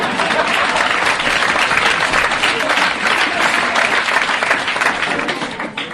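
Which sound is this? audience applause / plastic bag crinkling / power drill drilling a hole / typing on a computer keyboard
audience applause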